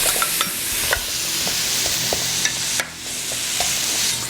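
Winter squash hits hot, shimmering oil and fries with a loud, busy sizzle, with frequent sharp pops and crackles and a brief dip in the middle as it is stirred.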